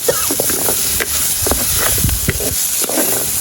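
Garlic sizzles as it is sautéed in a pan in a home kitchen for a squid curry, a steady close hiss broken by the scrapes and clinks of stirring.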